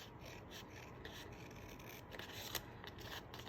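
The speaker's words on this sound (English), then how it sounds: "So what you're going to do is grab those scissors, okay?" Scissors snipping and rasping through folded paper while cutting paper palm leaves, a close, soft series of scraping cuts with no talking.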